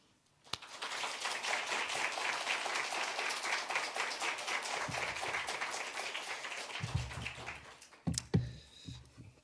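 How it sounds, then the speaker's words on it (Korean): A church congregation at a Sunday worship service gives a warm round of applause to welcome the pastor, steady clapping holding for several seconds before fading into quieter room sounds and a few thumps. "우리 목사님 나오실 때 크게 환영하는 박수로 하겠습니다."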